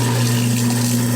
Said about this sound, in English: Now you're gonna want to turn on hot water and your disposal.